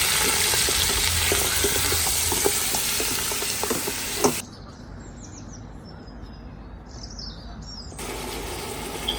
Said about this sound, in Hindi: दूसरे पतीले में हम लोग 2 से 3 टेबलस्पून तेल डालेंगे और मटन इसमें हम लोग भून लेंगे।